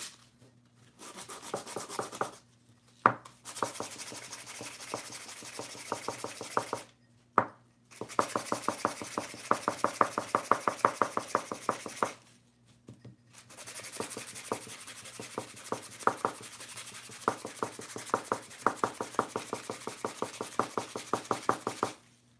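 Sandpaper rubbing back and forth on a silk flower pot craft project, in quick rhythmic scratchy strokes that come in bursts with a few short pauses, close and fairly loud, no talking.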